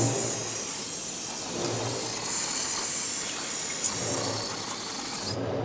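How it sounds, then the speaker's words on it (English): Brake parts cleaner aerosol hisses loudly and continuously onto the front brake hose fittings of a 2008-2010 Ford F-250 Super Duty, a steady close spray that cuts off abruptly at the end. "clean everything with brake parts cleaner so you can actually check for leaks"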